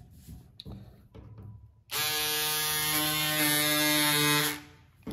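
Golden Eagle EC2000 cordless power scissors cutting through crepe fabric: after faint handling clicks, a loud steady electric buzz runs for about two and a half seconds, then cuts off.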